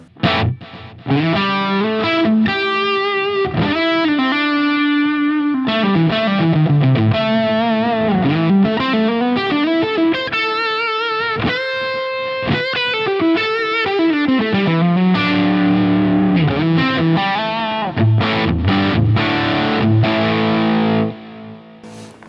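Distorted electric guitar lead through a Line 6 Helix, playing a fluid melodic line with bends and slides, loud and sustained, unmodulated delay trails following the notes, no voices.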